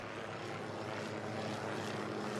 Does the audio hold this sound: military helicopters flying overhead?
yes